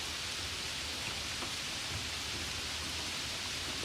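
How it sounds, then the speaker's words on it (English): Rain falls steadily on trees near Castell Dinas Bran above Llangollen, a dense, even hiss of drops pattering on leaves throughout, with no voices. "it starts raining"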